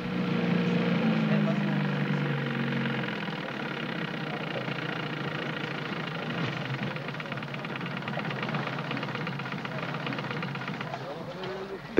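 A helicopter serving as a long-range airborne diving platform drones steadily with a low engine hum and rotor rumble throughout, slightly louder at first, as a voice narrates over it.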